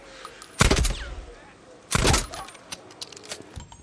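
Two loud, booming shotgun blasts in the zombie game Days Gone, spaced over a second apart, each with a sharp crack and rolling tail over a quieter outdoor background.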